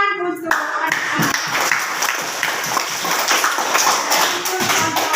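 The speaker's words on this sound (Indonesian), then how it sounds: "Ya, jadi tepuk tangan untuk anak-anak." Children in an Indonesian primary classroom clap their hands together in a steady burst of applause that runs throughout, loud and close, with a few voices mixed in.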